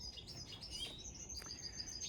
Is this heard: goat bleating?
no